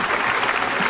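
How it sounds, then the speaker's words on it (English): Audience applause fills the stands at a Sea World San Diego Shamu show in 1999, a steady, dense clapping crowd cheering a volunteer, loud and continuous through the whole moment. "how about a nice round of applause for Amanda?"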